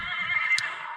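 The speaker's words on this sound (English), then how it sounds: "Horse. Oh, it's a horse." A horse gives a short, loud whinny close by, one brief shrill call about a second long.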